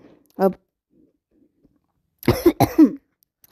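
A short cough, then a pause, followed by two louder, harsh coughs close together, heard up close in a quiet room.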